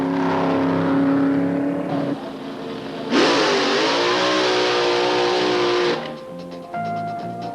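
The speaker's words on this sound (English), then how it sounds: "Drag racing, a quarter-mile race from a standing start" A drag racing car revs hard from a standing start in a quarter-mile race, its loud engine note climbing steadily across several seconds and then easing off.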